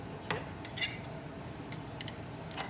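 A metal fork pokes and taps at cooked chicken breasts in a micro-grill, giving a few faint, scattered clinks and soft squishes against a quiet background.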